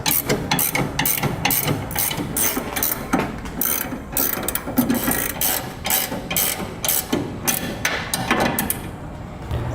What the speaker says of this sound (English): we can snug them down with a wrench